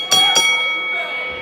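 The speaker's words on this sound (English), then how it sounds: "As soon as Brian McKay calls for the bell, we'll be underway" Two sharp bell rings announce the start of a wrestling match, struck a moment apart and ringing out loud and close over arena ambience before fading.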